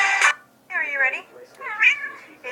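Cat meows come in three drawn-out, wavering calls, each rising and falling in pitch, with a short noisy burst at the start. They sound close and moderately loud.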